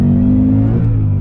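A Shelby Super Snake Mustang pulls hard in second gear under full throttle, its deep engine note loud and close with a steady, slightly rising roar across the short burst.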